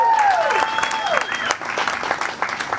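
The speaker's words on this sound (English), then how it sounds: "So please give it a round of applause for her." Brief applause rises from an audience at a Climate Week NYC event, short bursts of clapping with a few whoops and sliding whistled tones on top, fairly close and loud.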